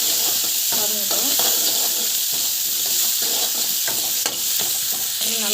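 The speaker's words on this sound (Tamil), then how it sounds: "பெருங்காயம் போட்டுட்டு நல்லா வந்து வதங்கட்டும்." Asafoetida sautéing in hot oil in a pan, a steady close sizzle and hiss with occasional stirring scrapes, while a person talks over it.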